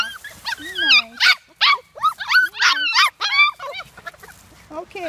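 Young red poodle puppies wrestle close by, letting out repeated high squeals, whimpers and yelps in quick bursts.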